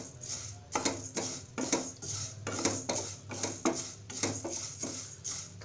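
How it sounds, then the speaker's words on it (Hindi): A spoon stirs whole coriander seeds dry-roasting in a pan over medium-high flame, giving repeated rhythmic scraping and rattling strokes, close and steady, with no talk. "सबसे पहले हम साबुत धनिया को मीडियम से हाई फ्लेम पे भून लेंगे"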